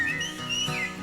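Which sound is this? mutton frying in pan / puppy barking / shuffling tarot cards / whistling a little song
whistling a little song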